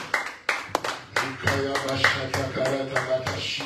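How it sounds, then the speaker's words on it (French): A church congregation applauding, a burst of sharp handclaps that swells into dense, continuous clapping from a crowd indoors, fairly loud with voices mixed in. "Applaudissez le peuple de Dieu."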